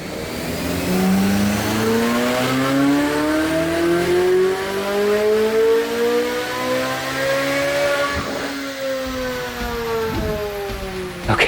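A stock 2025 Chevrolet Corvette C8 Z06 revs hard on a dyno, its loud engine note climbing steadily in pitch through a long sustained pull, then dropping sharply near the end, with no voices.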